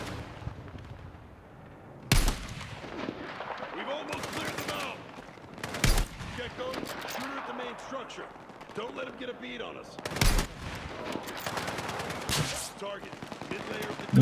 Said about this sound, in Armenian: Ինչ է կատարվում, ամենուր կրակում են, ստեղ ինչ-որ սնայպեր է մեր վրա աշխատում